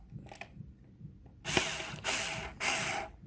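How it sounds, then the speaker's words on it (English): Electric screwdriver driving screws while an outdoor electrical socket is fitted in a greenhouse: after quiet handling noises, three short bursts of whirring motor, each roughly half a second long, close and fairly loud. "Electric screwdriver is okay if you go like slow."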